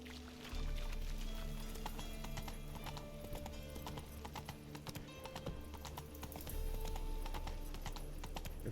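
Geralt's horse Roach gallops in The Witcher 3 video game, a rapid, steady clip-clop of hooves throughout, close and moderately loud, with a low rumbling ambience beneath.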